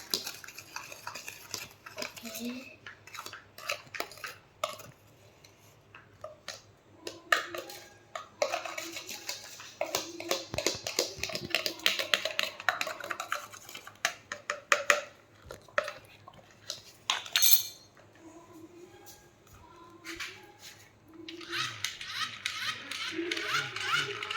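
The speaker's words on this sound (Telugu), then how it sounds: "ఇప్పుడు దీంటిని స్పూన్ తోటి మిక్స్ చేద్దాం" A spoon mixes homemade clay in a bowl, giving busy, irregular scraping and clinking with bursts of rapid stirring and brief pauses.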